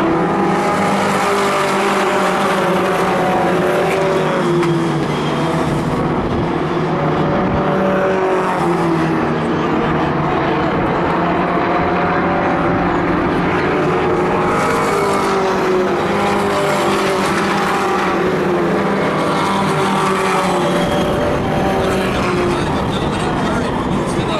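Race cars in a short-track event at a Maine motorsports program, a steady loud engine roar with shifting pitch running throughout, under continuous announcer commentary.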